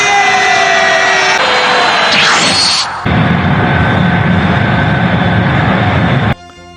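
An aircraft in a Dragon Ball animation roars past loudly, with a whooshing sweep midway and then a sustained steady engine drone that cuts off abruptly near the end.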